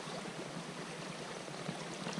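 A small trout stream flows in a steady, soft rushing wash, continuous and even throughout with no voices.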